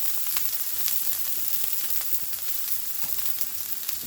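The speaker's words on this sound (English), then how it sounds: "And then we are going to add our cauliflower." Cauliflower sautés in butter with minced garlic in a pan, a steady close sizzle with small crackles and stirring clicks, no voices.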